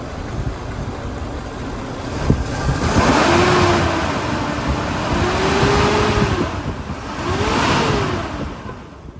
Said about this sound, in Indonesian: Coba kita gas dikit ya.